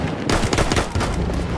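Loud, rapid gunfire in the video game Battlefield 1, with dense bursts of automatic shots cracking in quick succession over steady battle noise.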